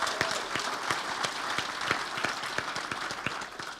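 Audience at a chamber of commerce annual meeting giving steady, moderately loud applause, with many hands clapping in a dense, even patter that fades slightly at the end.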